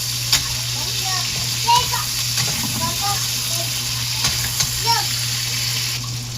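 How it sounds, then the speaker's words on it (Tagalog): Squash pieces go into a pan of cooking meat for a Filipino dish, giving a steady sizzle and frying hiss with light stirring clinks, while a voice speaks over it. "So, ako na isunod og isa ang kalabasa sa karni."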